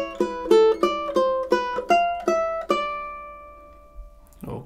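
Two measures of the classical piece A Little Flower are picked on ukulele, a steady run of plucked notes that gradually slows and ends on a ringing, fading note, followed by a brief rustle.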